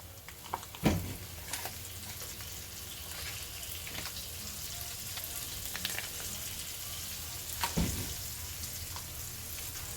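Butter melting in a pan for creamy buttered shrimp gives a steady, soft sizzle with a faint crackle, broken by a couple of sharper clatters near the start and again later. No one speaks.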